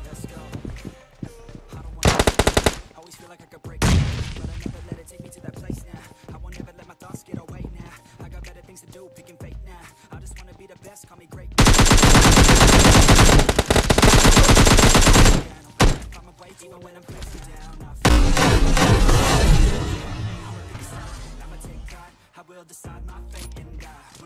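Gunfire in PUBG Mobile Lite, a mobile battle royale game, with rapid bursts and single shots scattered throughout and dense sustained volleys in the middle, loud and close.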